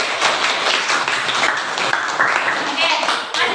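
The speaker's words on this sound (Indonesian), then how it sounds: "Tepuk tangan buat teman kalian." Classroom students clapping for a classmate during a physics lesson, a dense burst of hand claps from a group with chatter underneath, fairly loud and sustained throughout.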